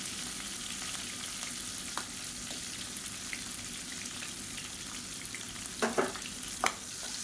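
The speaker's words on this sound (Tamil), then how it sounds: "சேர்த்துட்டு நல்லா வதக்கி விட்டுக்கலாம்" Sliced small onions and broken green chillies sauté in hot oil for a murungakeerai kulambu, a steady close sizzle with occasional stirring scrapes near the end and no talking.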